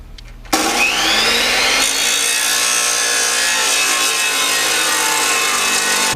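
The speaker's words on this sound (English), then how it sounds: "I got this beautiful I-beam here, and we're going to cut it to fit right here between the frame rails" A power saw cuts through a steel I-beam being sized to fit between semi truck frame rails, a loud, steady grinding whine that starts abruptly and holds for several seconds with no talk.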